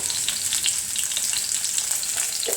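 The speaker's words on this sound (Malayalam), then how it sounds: "ഇനിയിപ്പോൾ ഞാൻ ഇതിനകത്തേക്ക് ഇഞ്ചി, പച്ചമുളക്, കറിവേപ്പില, പിന്നെ വെളുത്തുള്ളി," Ginger, green chilli, curry leaves and garlic fry in hot oil for a fish curry, giving a loud, dense, continuous close sizzle with crackling spatters throughout and no voices.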